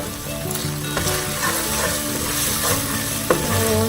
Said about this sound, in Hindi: तो या ये ऑलरेडी फ्राई हो गया है जो सॉस।